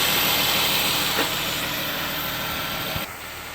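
A steady Dodge Durango 3.6L engine idles with a constant low hum and a broad hiss, running without a break and with no one talking.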